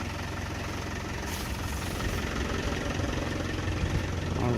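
An old Land Rover engine idling just after a cold start, a steady low rumbling chug with a slight knocking texture, close and continuous, with no voices.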